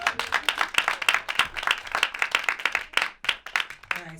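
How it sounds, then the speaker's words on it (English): A comedy show audience claps continuously for several seconds, a dense, even patter of many hands close to the microphone, with a voice faintly audible near the end. "Clap it up one more time"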